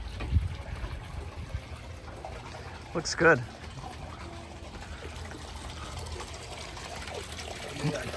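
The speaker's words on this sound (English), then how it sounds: "That air conditioner pump moves some water, don't it?" Air conditioner pump on a 65-foot LRC Hatteras boat discharging water, a steady low trickle and gush with a brief louder splash, while a person speaks briefly nearby.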